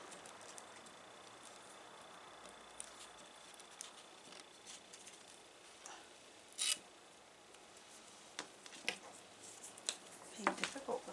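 Sticky tape pulled and handled while securing the sides of an in-the-hoop pocket window ID holder, giving quiet crinkles and a few short sharp rips, with soft speech over the top.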